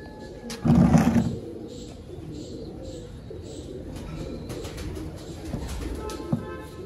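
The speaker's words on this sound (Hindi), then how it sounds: "ऐ सियालकोटी बटेरा कबूतर" Sialkoti pigeons coo softly in the background, with a brief louder burst of deep cooing near the start and light rustling afterward.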